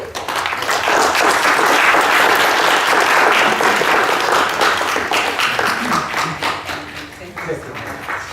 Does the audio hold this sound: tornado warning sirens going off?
no